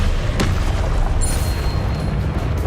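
The Confringo blasting curse explodes in Hogwarts Legacy, heard as a dense, rumbling boom that fills the short clip, with one sharp crack early on.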